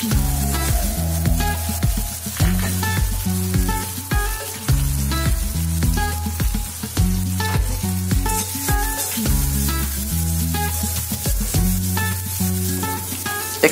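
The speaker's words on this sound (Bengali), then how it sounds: "কচুর লতি রান্না করার জন্য পেঁয়াজ মরিচ তেলে ভেজে নেই।" Onion, chili and ginger-garlic paste fry in hot oil in a village kitchen, a loud, steady sizzle close up with occasional stirring scrapes and no talking.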